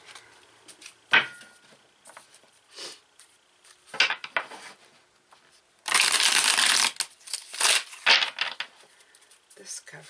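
Tarot cards are shuffled and drawn in soft, intermittent rustles and flicks, with one louder burst of riffling midway and quiet handling sounds around it.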